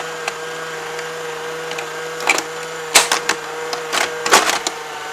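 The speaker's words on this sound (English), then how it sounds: "So those rollover bumpers are working, that side bumper's working, all the bumpers have fired." The bumpers of a Tomy Atomic Pinball toy fire as sharp plastic clicks and rattles over a steady mechanical hum, coming in scattered bursts and clustered toward the end.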